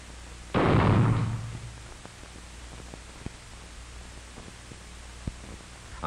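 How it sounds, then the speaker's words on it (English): A single loud gunshot blast rings out near the start during target practice at miniature targets, its roar decaying over about a second, followed by faint scattered clicks and ticks in a quiet background. "Fred Armstrong is giving Jimmy some practice shooting at miniature targets"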